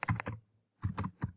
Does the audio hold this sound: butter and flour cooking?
no